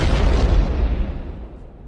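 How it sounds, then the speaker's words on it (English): An explosion sound effect: a loud, deep booming burst that rumbles and then decays gradually over about two seconds, with no voices. "People, I love these explosions."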